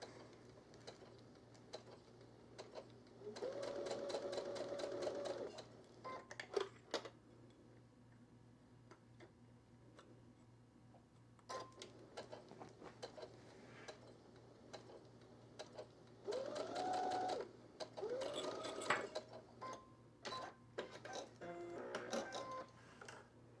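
A home sewing machine stitches binding onto a quilt wall hanging, running in two bursts of rapid mechanical whirring with clicking in between, close and fairly quiet.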